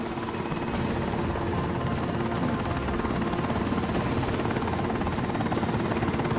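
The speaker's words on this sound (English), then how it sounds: "Enemy helo sighted." An enemy helicopter in the video game Deus Ex: Mankind Divided gives off a steady, loud rotor drone that holds unbroken for the whole stretch, with no voices over it.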